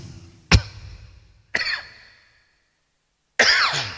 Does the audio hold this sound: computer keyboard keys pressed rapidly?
no